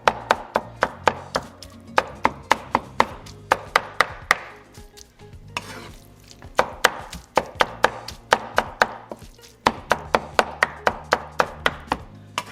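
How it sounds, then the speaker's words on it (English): A knife chops cooked beef head meat for tacos on a cutting board, a steady run of loud, sharp close knocks in quick bursts with short pauses between them. "chop it up really fine"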